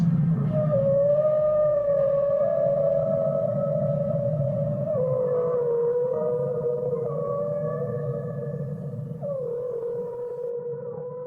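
Songs of great whales in the sea: long, wavering tonal moans and cries that rise and fall steadily, layered over a low rumbling bed, with no talking.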